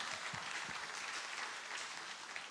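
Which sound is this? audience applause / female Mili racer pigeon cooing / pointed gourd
audience applause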